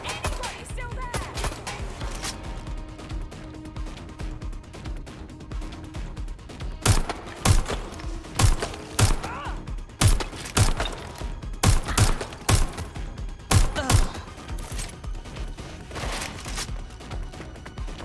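Rapid bursts of gunfire from the video game Watch Dogs Legion, sharp loud cracks repeating irregularly in volleys over a busy background of game ambience, with a few voices calling out between shots.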